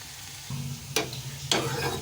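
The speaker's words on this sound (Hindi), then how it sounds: "अब हमारा ऑयल गरम हो चुका है सरसों के तेल में और इसे फ्राई करेंगे" Bitter gourd frying in hot mustard oil, a steady close sizzle with two sharp louder bursts of crackle partway through, no voices.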